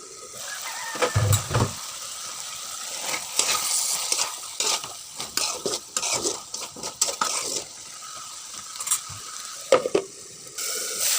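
Okra and puti fish curry sizzles in a pan just after water is poured in, with a busy crackling hiss broken by irregular stirring scrapes and a few louder pops and clinks.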